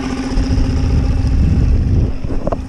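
A small 2.5 hp outboard motor hums steadily on a solo skiff, a close, continuous low drone with a slight rise near the end.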